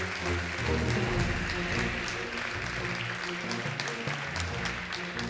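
Steady applause from an audience at the 2013 Entrepreneur of the Year award ceremony in Slovenia, greeting the first nominee; dense, continuous clapping holds evenly throughout, with a faint murmur of voices underneath.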